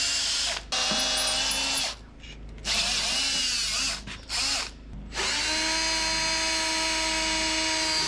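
A power drill runs at steady high speed with several brief pauses and restarts, loud and close, during work on a classic American truck restoration.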